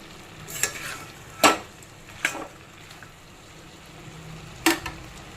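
Chicken curry masala for Konaseema-style chicken curry sizzles in a pan while a spoon scrapes and stirs in a few sharp strokes over a low, steady fry.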